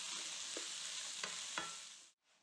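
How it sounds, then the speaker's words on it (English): Vegetables sauté in a hot pan as part of a Mulgikapsad sauerkraut dish, giving a steady close sizzle with a few soft stirring scrapes before the frying cuts off near the end. "we're going to give this a quick saute"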